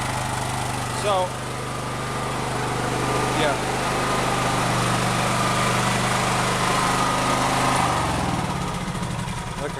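Honda EB5000 gas generator, 5000 watt, running with a steady droning hum and exhaust rumble, close and continuous, while someone talks briefly over it.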